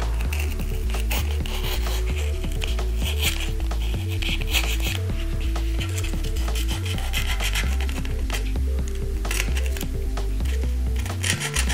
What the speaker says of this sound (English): Next, we'll cut a very delicate bevel.